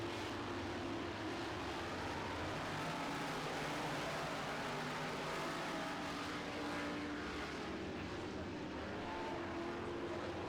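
Modified race cars roar around a dirt track in a dense, continuous engine drone, heard from a distance, with several cars blending together and a faint announcer voice underneath.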